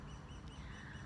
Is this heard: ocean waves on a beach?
no